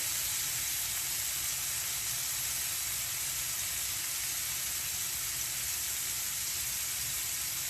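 Blackened mahi mahi fish pieces sizzle in a pan with a steady, dense hiss that holds evenly throughout, with no voices.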